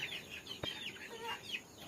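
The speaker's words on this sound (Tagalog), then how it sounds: "Tapos ang daming manok dito sa ilalim nila" Quiet chickens cluck softly in short scattered calls, with a single sharp knock partway through.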